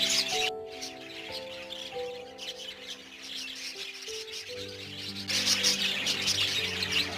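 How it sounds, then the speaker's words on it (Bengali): Many colourful birds in a children's park aviary chatter and chirp together in a dense, continuous mix, with steady tonal sounds running underneath and the chatter swelling louder near the end. "পাখির কিচিরমিচির শব্দ আমার অনেক ভালো লাগে।"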